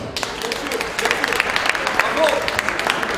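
An audience at a presentation event claps in scattered, uneven bursts that build to a fuller round of applause, with some talk mixed in.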